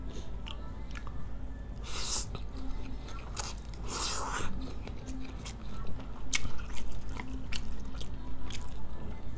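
Close, wet chewing and slurping of super spicy noodles with sausage and cheese fish balls, with a few louder bites and squishy mouth sounds over a quiet background.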